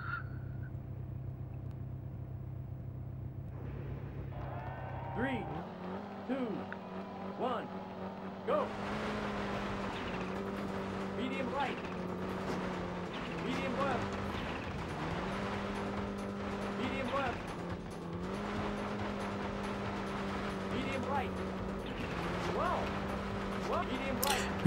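Sega Rally arcade racing cars on the Sega Saturn rev and drone through a race, a sustained engine hum that jumps in pitch with gear changes, accompanied by game music and effects, with talk over parts of it.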